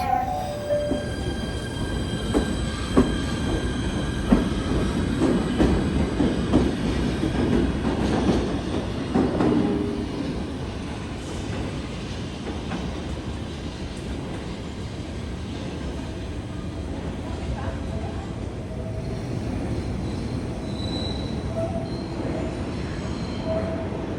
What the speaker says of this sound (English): And then there's the New York train